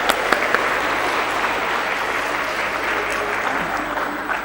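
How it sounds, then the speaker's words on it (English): An audience at a college inauguration and awards ceremony applauds steadily for a few seconds, a continuous wash of clapping with a few sharper hand claps near the start and no talking. "Let's give her a round of applause."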